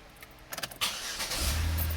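A 2006-2016 ninth-generation Chevrolet Impala with its airbag module removed cranks briefly in a few quick pulses, then catches and settles into a steady idle, heard close and alone.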